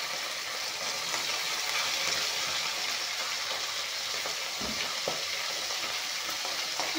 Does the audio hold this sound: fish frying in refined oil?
yes